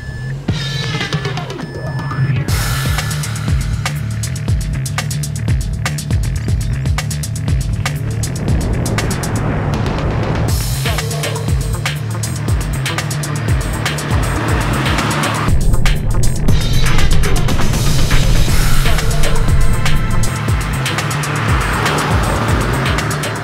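A car drives along hilly, curvy mountain roads in northern New Jersey, its engine droning loud and steady throughout, rising and falling with acceleration, with tire noise and road rumble close by and no talking.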